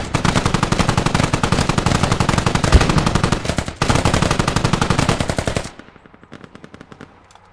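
Sustained machine-gun fire in the video game Squad, two long, rapid, loud bursts separated by a brief gap, then fainter distant firing trailing off at the end.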